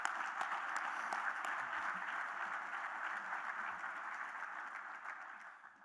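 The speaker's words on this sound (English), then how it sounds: "Let's give her a big round of applause." Sustained applause from a conference audience at an international pig survivability meeting, a dense, steady wash of many hands clapping that holds evenly for about six seconds before easing slightly at the end.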